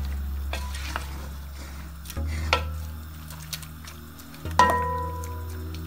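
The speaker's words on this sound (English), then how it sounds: "I will cook the shaki and the beef for 20 minutes" Shaki and beef simmer in a pot for ukpo soup, with faint bubbling and a low steady hum broken by a few sharp clinks and scrapes of utensil against the pot.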